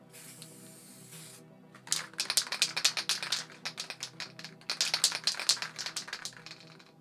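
A short soft hiss, then rapid bursts of black spray paint hissing from a can during a cap test, in quick uneven puffs, close and fairly loud.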